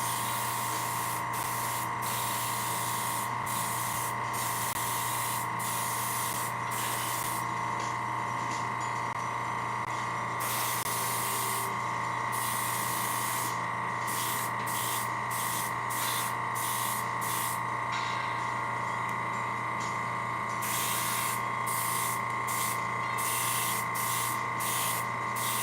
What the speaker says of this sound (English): Okay, then we're going to spray.